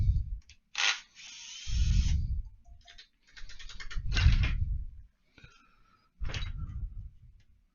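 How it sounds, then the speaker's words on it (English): Screws holding the motor of an RC truck being backed out with a hand tool, close intermittent ratcheting clicks, creaks and scraping turns separated by short pauses. "you're just going to take out the 2 screws that hold the motor in"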